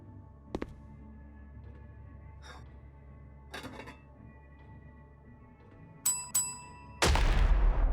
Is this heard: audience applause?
no